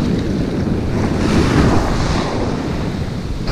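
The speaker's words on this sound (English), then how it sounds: "Look at all this white water." Ocean surf with churning white water waves at a surfcasting beach, a loud, dense continuous wash and roar heard close up with wind noise mixed in and no talking.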